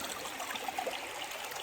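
Stony Brook, a stream on the Appalachian Trail, flows with a steady bright rush and trickle of water, close and continuous, with no voices.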